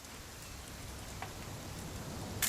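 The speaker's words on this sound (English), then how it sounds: "It's gonna rain the whole weekend" Steady rain falls in the video game What Remains of Edith Finch, a continuous even hiss of drops with no talk over it and a brief brighter patter near the end.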